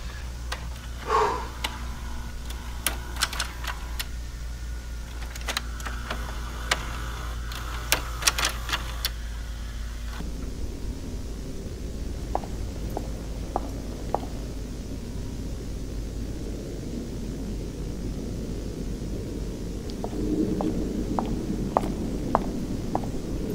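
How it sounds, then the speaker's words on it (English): High-heeled footsteps click through a Backrooms found-footage scene: a series of sharp, faint taps spaced irregularly against a low background hum, with a cluster of louder clicks early on and more scattered steps later. "Sounds like a lady in heels walking around."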